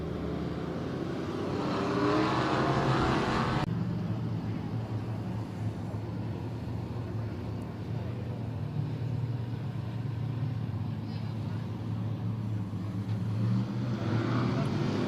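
Touring outlaw modified race cars roar around a Texas speedway, a continuous loud engine drone with a sharp shift partway through as cars pass, while voices come and go under it.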